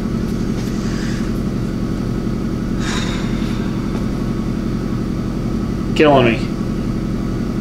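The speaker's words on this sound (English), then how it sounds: "the air compressor's running" An air compressor drones steadily in a car repair shop, a constant low, throbbing hum filling the background while someone briefly speaks over it.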